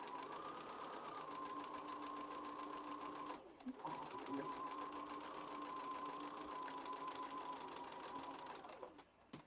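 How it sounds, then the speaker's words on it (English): A sewing machine runs in a fast, even whir as it stitches fabric for foundation paper piecing, pausing briefly midway and again near the end, with a voice talking quietly beneath it. "I'm going to start stitching all the way at the seam allowance and then just come across"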